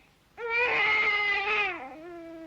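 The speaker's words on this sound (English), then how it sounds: "a baby crying." A single loud, drawn-out infant wail with a strong harmonic tone, sustained for over a second before trailing off into a softer whimper, used as a sound effect in the Where the Wild Things Are animated film.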